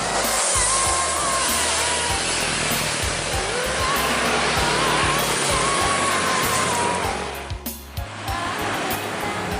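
A PT Rapi Exonus bus passes close by with a loud, sustained engine roar and whooshing rush, its engine throbbing low throughout before a brief dip near the end.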